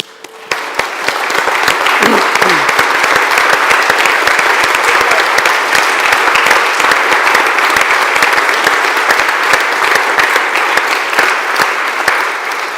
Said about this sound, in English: But Lewis and Lauren, perhaps you would stand up and have your long-awaited round of applause.